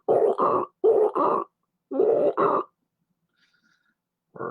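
A human voice imitates a bullfrog with deep, throaty croaks. They come in three paired bursts with short pauses between, close and loud, then a final croak begins at the end.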